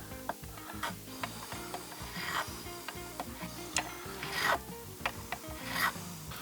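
A metal file dressing guitar frets: steady rhythmic rasping strokes, back and forth at a regular pace, close and fairly quiet with occasional louder scrapes, no voices.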